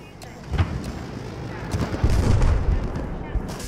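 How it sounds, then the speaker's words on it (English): Battlefield 4 multiplayer combat with a tank pushing forward: rumbling engine and heavy booming cannon and gun blasts, loud and continuous, with scattered shots throughout. "Tank's pushing in now."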